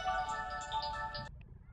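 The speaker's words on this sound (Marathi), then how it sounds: "मला फोन आलाय" A phone ringtone for an incoming call plays as a steady tonal melody that is fairly faint, then cuts off abruptly a little past the middle, leaving near silence.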